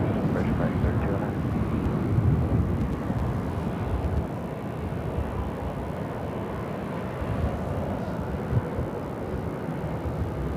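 Airliner taking off from runway 25 right at Phoenix airport, a continuous broadband jet roar heard at a distance, steady throughout with no voices.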